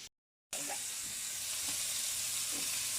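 A pair of burger patties fry in a pan, a steady close sizzle broken by a brief dropout at the start, with a few faint clicks and no clear talking.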